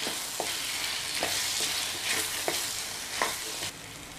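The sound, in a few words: drumsticks sautéing in oil for kara kuzhambu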